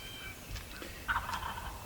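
A wild turkey gobbler gobbles from a field edge about 75 yards off, a faint, distant burst of rattling calls standing alone over quiet outdoor background.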